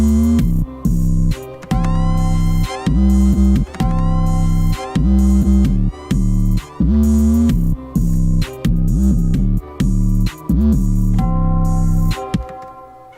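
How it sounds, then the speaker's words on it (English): Dark trap beat built in FL Studio 12, a melodic loop with heavy low bass and punchy drums that repeats in chopped bursts, each phrase dropping and cutting off sharply like a fading echo. "We're gonna make it sound like an echo, so we're gonna lower it each time."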